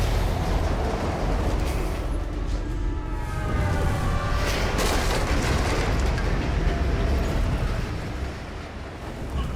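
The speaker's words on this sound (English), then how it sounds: "Think you can dodge a train?" In the video game Alpha Protocol, a train rushes past with a loud, continuous rumbling roar and rattling, close and steady, easing off near the end.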